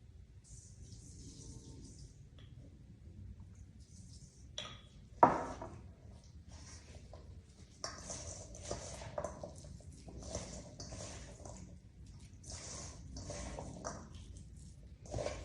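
Boiled peas and potatoes being mashed with salt in a bowl, soft squishy presses with intermittent clinks and scrapes of a utensil against the dish, fairly quiet and irregular.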